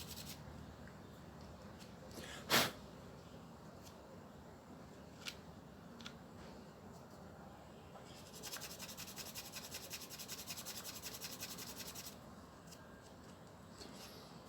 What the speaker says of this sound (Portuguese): Não precisa lixar muito.